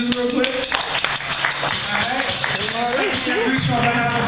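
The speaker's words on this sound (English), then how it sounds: "Can you clap it up for Jesus real quick?" Church audience claps for Jesus at Grace Fellowship Worship Center, a scattering of sharp, uneven claps mixed with voices and singing-like tones in the room.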